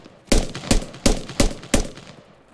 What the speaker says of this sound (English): Sorry, I couldn't hear you for the grenades going off